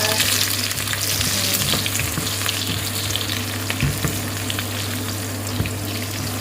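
Onion and garlic sautéing in a wok for a Filipino pancit party dish, a steady close sizzle with scattered stirring scrapes and a low constant hum underneath.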